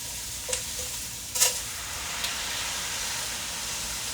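Onions sizzle steadily in a pan as lentils are added, giving an even crackling hiss with a few light taps and clinks of a utensil near the start, and no one speaking.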